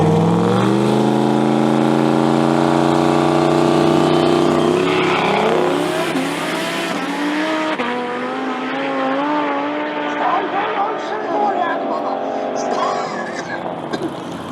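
Mid-engine V10 Volvo 240 race car at a drag race event, its engine droning loudly with harmonic tones that rise and fall in pitch as it revs, then settling into a rougher, varying idle as it rolls back toward the pits.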